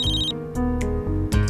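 A telephone rings unanswered indoors, its electronic ringtone repeating in bursts with brief gaps, loud and close with no one speaking.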